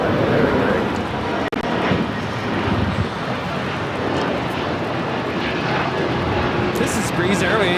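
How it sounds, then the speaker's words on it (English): A Breeze Airways Airbus A220-300 takes off from LAX, its jet engines a steady, loud broadband roar that holds throughout with little change, broken once by a brief sharp click. "This is Breeze Airways Flight 825 taking off to Akron on the A220-300"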